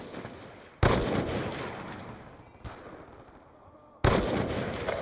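Gunfire in a sniping video game: loud, sharp blasts with ringing tails, one at about a second in, a smaller crack midway, and another heavy shot near the end, each fading into low rumble.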